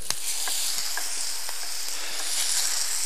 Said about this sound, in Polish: Dobrze, więc zaczynamy smażenie.